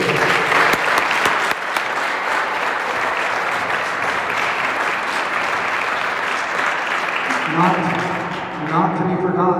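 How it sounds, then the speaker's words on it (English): Sustained, loud applause from a crowd in a gym at a school team's seniors night, honoring a coach, steady dense clapping for most of the stretch before thinning as a voice comes in near the end. "So I would like a round of applause for Coach Craig."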